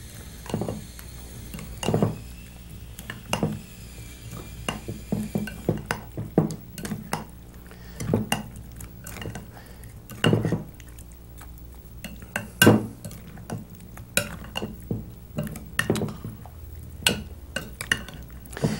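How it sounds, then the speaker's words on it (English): Cauliflower and potato pieces are stirred in a pan, with repeated clattering scrapes and knocks of a utensil against metal coming in irregular bursts over a quiet background, with no talking. "Let's add our cauliflower pieces, our potato pieces, stir it all in."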